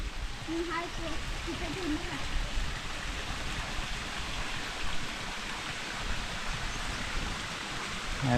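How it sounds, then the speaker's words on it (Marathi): Rain falling beside a river in the Konkan countryside, heard as a steady, dense broadband hiss throughout, with people talking faintly under it. "आता पाऊस सुरू झाला"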